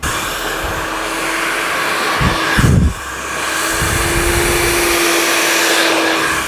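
Hair dryer blowing during a blow-dry of layered hair at home, a steady loud airy whoosh with a brief surge as the airflow shifts, running continuously without talk.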